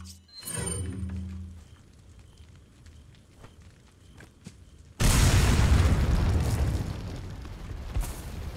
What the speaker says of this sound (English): What if I throw a grenade up there?